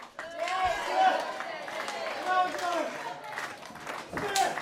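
Crowd at an independent wrestling show clapping and cheering in a hall, rhythmic claps and shouts building under an announcer's voice, moderately close.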